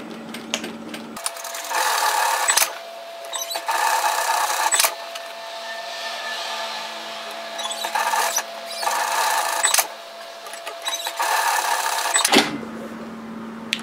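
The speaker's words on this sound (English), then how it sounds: "I'm going to top stitch either side of the seam line 5mm" A sewing machine top stitches along a seam of a sun hat, running in several rapid whirring bursts separated by short pauses, close and fairly loud.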